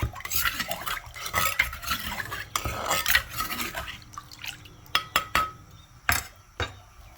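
Wet scraping and knocking as ingredients are stirred with liquid in a mortar, with irregular clinks and taps that grow sparser toward the end, close by.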